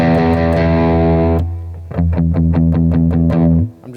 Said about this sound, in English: you can let the strings vibrate under your right palm for palm muting